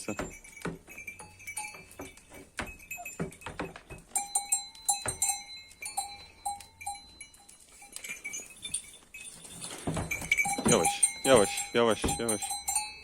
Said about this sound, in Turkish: Koca anaç keçisi.